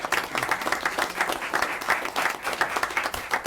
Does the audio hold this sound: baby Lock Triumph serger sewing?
no